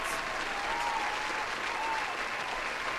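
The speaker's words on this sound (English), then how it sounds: "I did win, and therefore, I get a round of applause." Steady, dense applause from a crowd, continuous clapping at moderate level throughout with no pauses.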